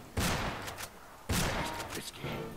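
Gunshots in the Wild West shooter game Fistful of Frags: two loud, sharp bursts of firing, each followed by a few quicker shots and echoing tails, close and dominant with no talk over them.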